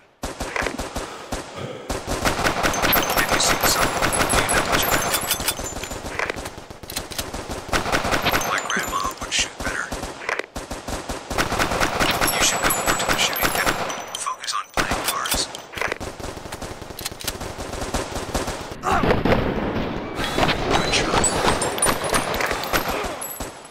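Bursts of automatic gunfire from a weapon in the VR shooter Crisis Brigade, rapid rattling volleys broken by short pauses, loud and close.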